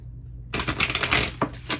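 A deck of cards riffled close up, a quick fluttering burst of rapid flicks, then a couple of taps as the cards settle.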